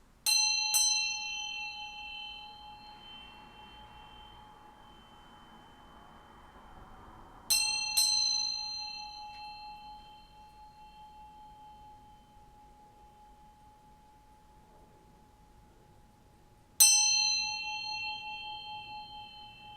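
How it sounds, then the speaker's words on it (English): A ringing bell struck three times at spaced intervals, the first and second strikes each followed quickly by a second hit, every clear metallic ding decaying slowly into a long sustained hum in an otherwise quiet room. "I'm going to ring this bell to bring in some good vibes"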